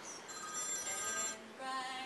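Telephone ringing in a quiet room during a baseball broadcast sound check, a repeating electronic ring tone with a short gap in the middle, alone with no talk.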